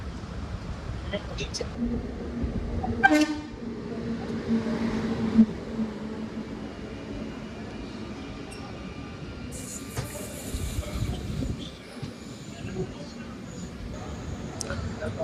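Palaruvi Express with new LHB coaches hauled by a WP7 locomotive pulling into Kayamkulam Junction railway station, a steady rumble of rolling coaches with a few squeals and clanks, heard under a voice-over.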